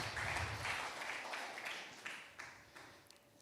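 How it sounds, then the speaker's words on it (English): Congregation clapping during an evening church service, a steady wash of many hands at moderate level that thins out toward the end, with a few louder individual claps standing out. "Give a clap to God for tonight."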